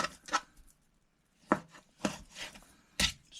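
A knife chops through pork shoulder in several sharp cuts, each a distinct thud on the board, spaced irregularly with short pauses between.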